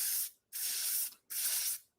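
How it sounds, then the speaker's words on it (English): Aquaphor foaming spray hisses from a shaken can onto a hand in three close, sharp bursts, each a bright airy spray lasting under a second with short silent gaps between. "Aquaphor has this spray, and I will spray it on my hand so you can see how it foams up"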